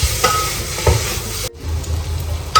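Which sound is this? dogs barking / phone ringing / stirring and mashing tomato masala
stirring and mashing tomato masala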